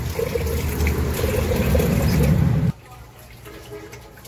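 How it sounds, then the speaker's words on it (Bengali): Rice is washed with water in a village kitchen: a loud, steady rush of running and sloshing water that stops abruptly partway through, leaving faint background noise. "এই জন্য আমি চাল ধুয়ে দিতেছি"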